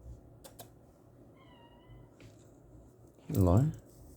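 A kitten lets out a single loud, close meow near the end, after a quiet stretch with faint rustling and soft taps.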